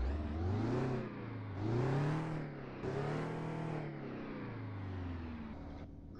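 A slammed Peterbilt 352 cab-over truck engine in American Truck Simulator revs up and down three times in long swells, then settles into a steady drone, loud and close.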